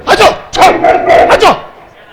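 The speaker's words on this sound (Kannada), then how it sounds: "ನಾಯಿ ಬೊಗಳ್ತಾಯ್ತೋ ನೀನ್ ಬೊಗಳ್ತಾ ಇದ್ದ ಎರಡೂ ಗೊತ್ತಾಯ್ತಾ ಇಲ್ವಲ್ಲೋ?" Three loud, sharp barking bursts, dog-like yelps with tonal edges, ring out close by during a live village stage performance of a Ramayana drama, then fade into quiet.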